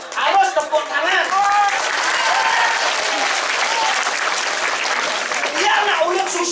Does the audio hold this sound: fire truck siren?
no